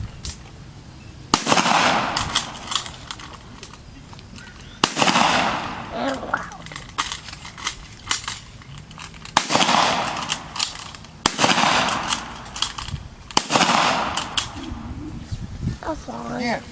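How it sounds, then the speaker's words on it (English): A rifle fires five aimed shots at a reenactment honoring General Pershing's order, each loud sharp crack spaced a few seconds apart, with someone talking between shots. "and I'm ready to fire. 5 aimed shots, per General Pershing's order"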